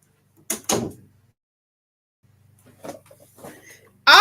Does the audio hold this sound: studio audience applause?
no